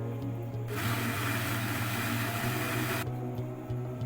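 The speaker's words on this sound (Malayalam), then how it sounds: "അതൊരു മിക്സി ജാറിലിട്ടിട്ട് നല്ലോണം ഒന്ന് അടിച്ചെടുക്കണം" A mixer grinder whirs loudly for a few seconds while blending bananas, starting abruptly and cutting off, over a steady low motor hum.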